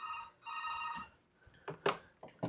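A phone rings with an incoming call indoors, giving two short, fairly faint electronic ring bursts, followed by quiet clicks and handling noises.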